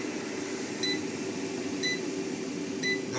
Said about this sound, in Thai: แจ้งเตือนแบตเตอรี่ต่ำแล้ว ตืดตืดตืดต้องทำการปิดก่อน